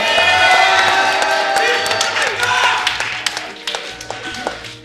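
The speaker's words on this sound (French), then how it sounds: "un gros applaudissement pour Gif" A live podcast audience at PodRennes gives a big round of applause for a guest named Gif, with clapping, cheers and whoops from the crowd, loud at first and gradually thinning out.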